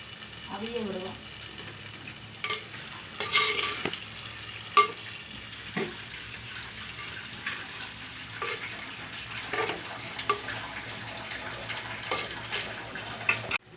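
Marinated chicken and tomatoes for a Sunday chicken biryani fry in a pot, with a steady sizzle broken by repeated scraping and clinking stirs of a spoon against the pot, close and moderately loud, while a voice talks now and then.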